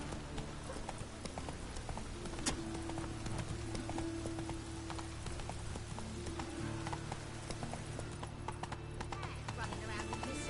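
Hooves of Roach, the horse from The Witcher 3, clop in a steady walking rhythm under a constant bed of game ambience and music, with faint rain-like texture and some speech.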